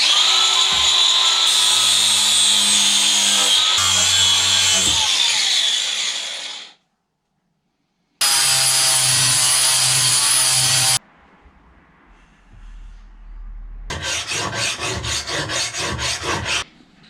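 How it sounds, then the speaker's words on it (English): An angle grinder fitted with a flap sanding disc grinds a steel file being shaped into a knife, producing loud sustained rasping and whining in long bursts separated by silence and quieter pauses. "This is a flat disc. It's essentially just a wheel of sandpaper for your angle grinder."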